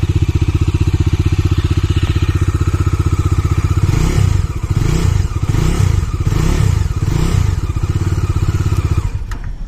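A Bajaj Dominar 250 motorcycle with a twin-barrel exhaust idles with a steady pulsing thrum, then gets several sharp throttle blips in a row before settling back, loud and close.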